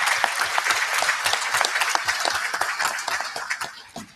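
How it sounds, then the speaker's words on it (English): Applause from a small audience at a wrap-up session honouring cluster heads, individual claps audible in an irregular patter that fades out near the end. "We want them to give him one big hand"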